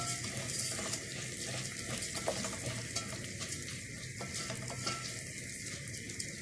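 Rice frying in oil in a pan, a steady close sizzle crackling without a break under occasional faint stirring, with no voices.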